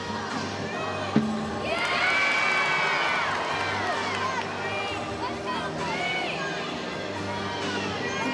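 A college gymnastics meet between Florida and Georgia, where an arena crowd roars and cheers continuously, with high-pitched shouts and whistles rising in waves over a dense babble of voices, loud and sustained.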